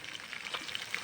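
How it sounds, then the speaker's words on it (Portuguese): Fish frying in a pan at an outdoor fishing camp in Goiás, a soft steady crackle and sizzle with small popping spatters, faint and continuous with no voices. "tem um peixe fritando"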